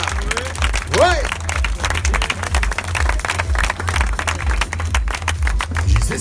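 A crowd at the start of the Xtrail 33 trail race in Courchevel claps loosely and unevenly, with shouts and talk over a pulsing low beat of music.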